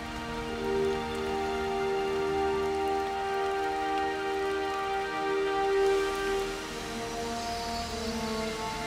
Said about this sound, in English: This nourishing rain quenches the desert's deepest thirst.